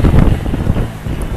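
Strong wind batters the microphone in loud, rough gusts and low rumbling buffets that rise and ease unevenly, with no talking.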